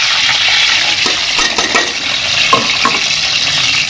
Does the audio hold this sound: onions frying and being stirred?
yes